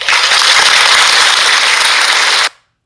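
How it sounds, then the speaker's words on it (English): Audience clapping at a talk, a dense, loud burst of applause that fills the space and then cuts off abruptly after about two and a half seconds. "this is an area right here where we just got to clap."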